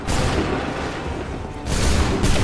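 Musket volleys ring out in Assassin's Creed III, two loud broadband bursts of massed fire with a dense crackling roll between them, close and filling the scene.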